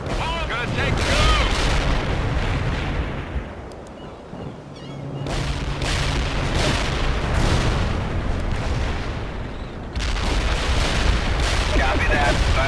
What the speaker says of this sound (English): Incoming. Heavy artillery.